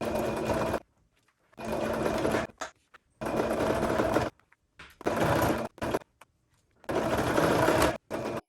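A sewing machine stitching a dust bag seam runs in four or five rapid whirring bursts of about a second each. Short quiet pauses separate the bursts. The sound is close and clear, with no talking.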